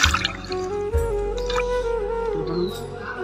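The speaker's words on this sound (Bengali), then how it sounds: "এই কারণে আমরা হলুদ দিয়া ধুয়ে নিই।" Hilsa fish washed in water with turmeric in a kitchen, giving a short stretch of splashing and dripping water close by, with no talk.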